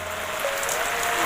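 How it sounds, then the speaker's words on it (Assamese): Rain falls in a steady, even wash of hiss, close and continuous without breaks or voices. "মই এইফালে বৰষুণত ফাঁচি আছোঁ"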